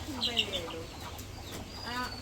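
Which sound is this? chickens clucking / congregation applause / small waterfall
chickens clucking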